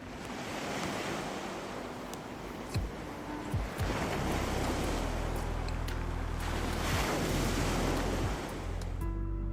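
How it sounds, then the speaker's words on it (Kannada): Sea waves roll in and break on a beach at Kochi, rising in several loud, hissing surges a few seconds apart over constant wind rumble, with no one talking. "ಈ ಸಮುದ್ರದ ಅಲೆಗಳ ಶಬ್ದ ಕೇಳಿಸೋಕ್ಕೆ ಎಷ್ಟೊಂದು ಖುಷಿ ಅನಿಸುತ್ತಲ್ವಾ"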